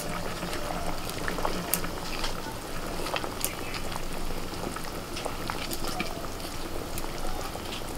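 Fish curry with fried fish and half-cooked potatoes simmering in a pot, a steady close bubbling boil with scattered pops and crackles running throughout.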